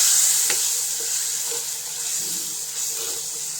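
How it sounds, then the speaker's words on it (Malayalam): Soaked kodampuli (Malabar tamarind) water pours into frying masala for a Kottayam-style fish curry, a loud sizzling splash at first that settles into a softer bubbling hiss, with a few faint stirring scrapes and no talk. "അപ്പോൾ അതിലേക്ക് ഇനി ഞാൻ ചൂടുവെള്ളത്തിൽ കുതിർത്ത് വെച്ചിരുന്ന കുടംപുളിയുണ്ട്, അതും കൂടെ നമുക്ക് ഒഴിച്ചു കൊടുക്കാം"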